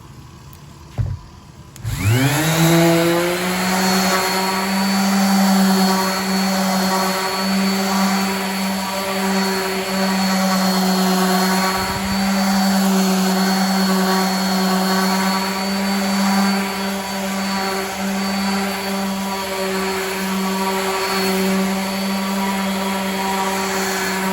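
A door being sanded with coarse 80-grit sandpaper gives a steady droning whine that starts after a brief quiet moment and runs evenly for over twenty seconds, close and fairly loud.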